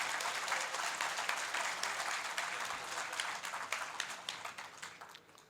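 Applause from a large audience at the All India BSNL Pensioners Welfare Association conference in Kochi, a dense, steady roar of many hands that thins slightly toward the end.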